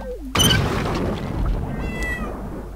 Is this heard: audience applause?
no